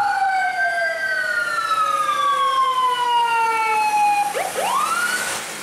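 An ambulance siren wails through traffic, loud and close, its long sweeping tones gliding steadily downward before breaking into a quick rising whoop near the end.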